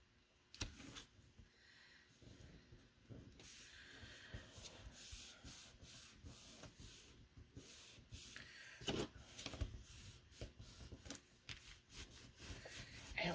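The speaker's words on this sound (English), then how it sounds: "I like to burnish my pieces down." Glued paper pieces are burnished down with repeated rubbing strokes, a soft, close scraping that comes in irregular bursts, quiet and without talk.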